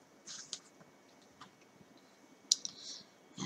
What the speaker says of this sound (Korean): 오른쪽 상단에 저장 클릭.